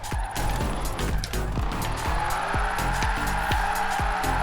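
A 1988 Holden VL Commodore Group A SV race car in Forza Horizon 4 revs hard and steadily through its gears, the engine droning loud and close with repeated rising sweeps as it shifts, tire noise mixed in.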